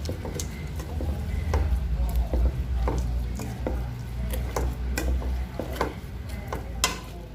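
Repeated scraping and clinking of a utensil stir-frying spicy field rat with pounded spice paste in a pot, irregular taps over a low steady cooking rumble.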